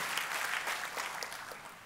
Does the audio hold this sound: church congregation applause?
yes